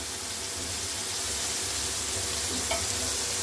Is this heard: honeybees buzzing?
no